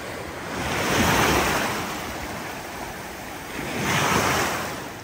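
Surf washes onto the shore at Agonda Beach in South Goa, two broad swells of rushing water rising and fading over steady wind noise.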